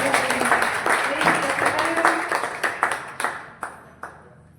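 Audience at a women's chutuku poetry gathering in Mudalagi welcomes a speaker to the stage with applause that starts dense and thins into scattered, fading claps.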